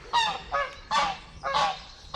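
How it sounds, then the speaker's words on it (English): Canada geese honking at a lakeside nesting area, four loud, harsh honks in an uneven rhythm, close by with no talking. "There's a couple of Canada geese there."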